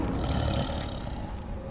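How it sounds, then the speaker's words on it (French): A lion roars in the video game Far Cry Primal during a night hunt, a dense, rumbling growl that stays loud and sustained throughout the short stretch. "Cette fois-ci, c'est le lion."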